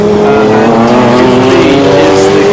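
Race cars on the Mulsanne straight at Le Mans in 1995 drone loudly with a sustained, slightly wavering engine whine, heard close and continuous while a commentator's voice runs over it.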